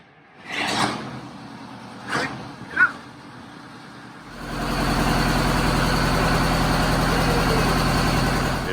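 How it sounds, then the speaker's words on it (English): A big old diesel bus engine, converted to an RV and coming out of long-term storage, follows a few loud clunks, then catches and settles into a steady, loud, rumbling idle up close. "this big old diesel just loves to run"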